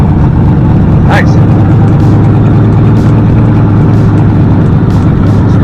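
A car engine at an outdoor car show, where a Camaro and a Gran Torino are on display, gives a loud, steady rumble throughout. Crowd noise and voices carry under it.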